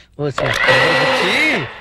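A kitchen mixer grinder whirs up to speed after a brief start, a loud, steady motor whine that holds for over a second and then cuts off.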